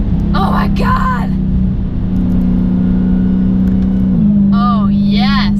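A 2019 Dodge Challenger Hellcat Redeye's engine drones steadily and loud from inside the cabin, its pitch stepping up after a downshift from fourth to third as the car accelerates, with someone talking over it.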